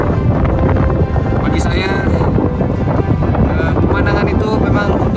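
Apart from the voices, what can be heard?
strong wind on mountain summit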